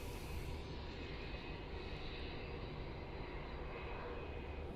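An airliner departing runway 16 at Melbourne Airport gives off a loud, steady engine roar that fills the whole stretch, broad and rumbling with no voices.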